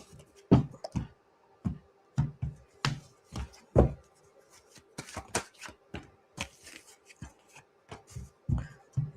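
Tarot cards being shuffled by hand in quick, close bursts of riffling and soft slaps, repeated in an uneven rhythm and heard alone without talk.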